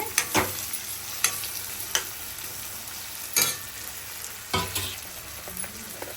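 Tomato curry sizzles and fries in a pan, with several distinct scraping strokes of a spoon stirring it at irregular intervals over a steady, close frying hiss.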